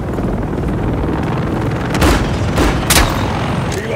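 Military helicopters fly in to drop reinforcements in Modern Warfare 3 on the Highrise map, a loud, continuous rotor-and-wind roar broken by a few heavy booms of distant gunfire and explosions.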